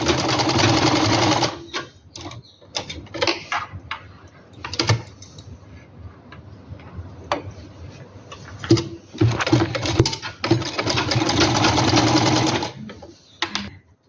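A sewing machine stitches a simple suit in short stop-start bursts, its rapid mechanical whirr loud and close, with longer runs near the start and later on, broken by clicks and handling noises of the cloth.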